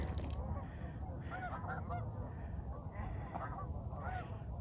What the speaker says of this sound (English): I think they're geese. I don't think they're ducks.